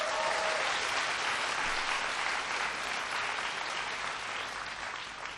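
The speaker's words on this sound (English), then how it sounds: "a big round of applause for..." A large audience of young people at a town hall with President Obama in Saigon breaks into dense, sustained applause, loud and continuous, easing off slightly toward the end.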